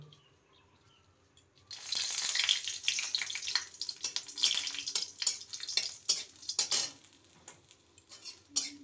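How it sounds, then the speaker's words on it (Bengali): Three dried red chilies fry in hot mustard oil in a kadai on a gas stove. A sudden loud crackling sizzle with sharp pops starts about two seconds in and continues, with no talking. "এবারে এখানে আমি 3টে শুকনো লঙ্কাকে ভেজে নেব"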